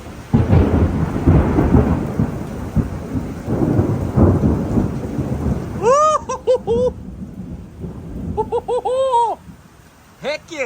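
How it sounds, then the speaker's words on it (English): Loud thunder rumbles and cracks through a heavy thunderstorm with steady rain, dominating the first half before a voice breaks in with excited whoops and exclamations. "That literally shook the place. That thunder earlier when I went, let's get, ooh."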